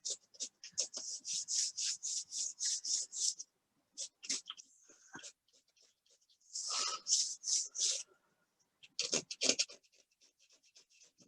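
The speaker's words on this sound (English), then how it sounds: "Scraping off some of this paint." Palette knife scraping wet oil paint off a quick moorland landscape canvas, a run of short rhythmic close rasping strokes, then pauses and a few more scraping bursts, with no talk.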